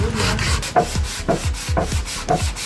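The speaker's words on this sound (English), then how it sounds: "So we had to sand completely so that we can get rid of the crevices and the cracks over there" Sandpaper rubbed back and forth over a carved wooden stool, removing cracks and crevices; close, rhythmic rasping strokes about twice per second with no talking.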